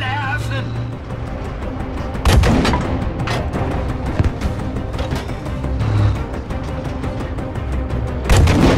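Gunfire and booming artillery fill a Battlefield V battle, with sharp shots and heavy blasts over a constant rumble of combat and occasional faint voices.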